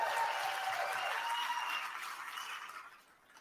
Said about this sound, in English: They clapped because it was amazing.